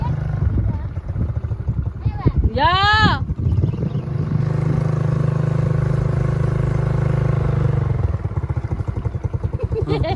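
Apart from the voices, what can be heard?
motorcycle riding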